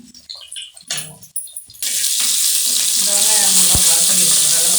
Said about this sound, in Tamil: நல்லா வாசனை அளவு வதக்கி வச்சுக்கலாம்.